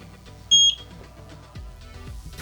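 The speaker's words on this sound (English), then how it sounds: "press that and hold it until you hear a beep and the LED is flashing blue" A camera's sync button gives a single short, high-pitched electronic beep lasting about a fifth of a second. It stands out clearly above faint handling noise and light knocks.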